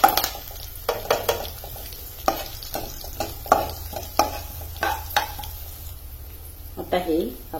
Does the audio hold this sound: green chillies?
yes